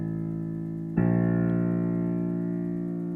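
Two sustained musical notes with rich harmonics. The first holds for about a second before the second, a half step higher, enters with a clear attack and rings steadily to the end.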